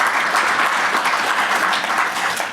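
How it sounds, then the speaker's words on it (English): Crowd at a riverfront master plan press conference bursting into loud, dense applause that continues and starts to fade at the end. "showing that you give that a round of applause"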